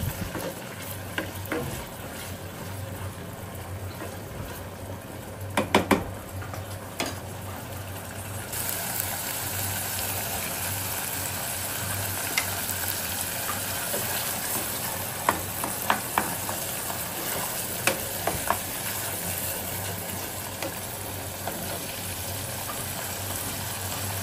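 Fish cooking in a pan with onion paste and almond and pistachio nut paste, giving a steady sizzle and frying hiss throughout, with occasional stirring scrapes and clinks close by.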